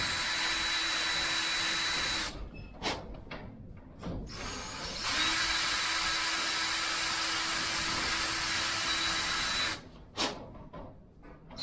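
A power drill whirs steadily at close range while assembling a rake, stopping briefly a few times with short pauses and small knocks before running again.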